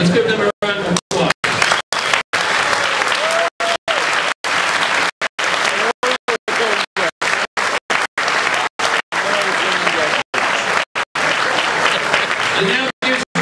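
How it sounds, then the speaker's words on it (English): Gala audience giving a long, sustained round of applause, a dense, even roar of clapping broken by frequent brief dropouts. "Let's give them a round of applause."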